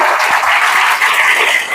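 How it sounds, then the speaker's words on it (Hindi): Loud applause from a large audience at an RCM business seminar, dense and sustained clapping with no voices over it. "हिंदुस्तान की यार एक बार जोरदार तालियां बजा सकते हैं आप?"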